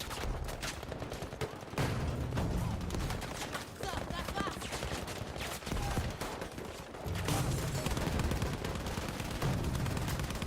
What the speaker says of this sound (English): I think both sides are probably under pretty heavy fire.